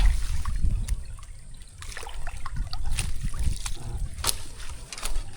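Water draining from a rice paddy through an opened outlet, a steady low gurgling rush with scattered splashy trickles, close by and moderately loud throughout.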